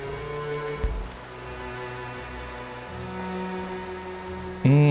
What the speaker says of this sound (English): Looks like we got a little bit of fog, a little bit of rain here today.